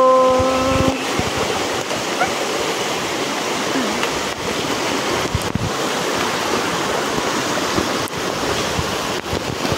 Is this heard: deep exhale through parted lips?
no